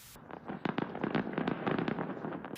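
Fireworks at a large Fourth of July festival on Broadway in Lubbock, Texas, popping and crackling in a rapid irregular string of sharp bursts, dense and fairly close, with no speech.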